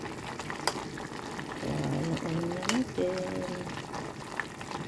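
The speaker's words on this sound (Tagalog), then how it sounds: "Ayan, kumukulo na kumukulo." Water bubbling at a steady boil in a pot, a continuous hiss and burble with a person speaking over it.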